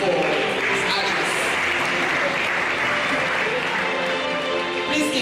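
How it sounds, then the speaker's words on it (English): Steady audience applause fills the hall at an optometry oath-taking and induction ceremony, a dense continuous wash of clapping from many hands with murmuring voices beneath it. "Please keep clapping."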